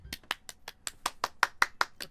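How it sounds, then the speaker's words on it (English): Soft applause in the visual-novel game Doki Doki Literature Club, a rhythmic series of about a dozen evenly spaced claps, fairly faint and alone. "I receive applause anyway."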